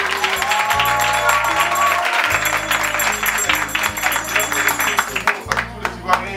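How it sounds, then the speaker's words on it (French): Children applaud in a Radio Côte d'Ivoire studio during a children's Christmas broadcast, bursts of clapping over loud background music, with sharper isolated claps near the end. "Est-ce que je peux encore entendre les applaudissements?"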